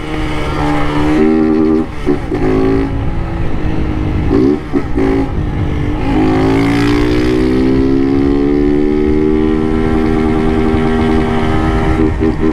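A Start 160 motorcycle fitted with a tin exhaust revs hard and loud up close, with rising and falling engine notes over about twelve seconds and a brief dip before sustained high revving.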